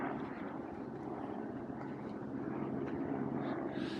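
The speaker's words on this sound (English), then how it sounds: "You'll see helicopters flying." A helicopter flies over a mountain area near Omalo, Georgia, giving a low, steady engine and rotor drone that stays faint and distant throughout, without talk.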